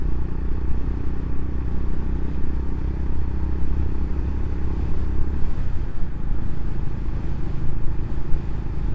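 A Honda GB350 motorcycle rides along with a steady, close engine drone and wind rumble, its tone shifting slightly as gears change down and then up through third and fourth.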